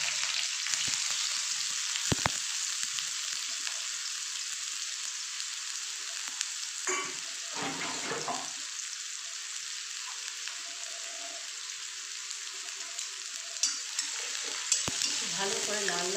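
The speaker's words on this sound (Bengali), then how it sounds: "ভালো করে লাল লাল করে ভেজে নেব।" Chopped garlic and onion with cumin seeds fry in hot oil, giving a continuous close sizzle with intermittent scraping strokes of a spoon stirring through the pan.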